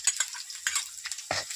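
Chopped onion goes into a pan with curry leaves and finely chopped chillies and is stirred while cooking aloo paratha filling in a village kitchen. A few short scraping stirs and light sizzles come close and moderately loud, with no talking.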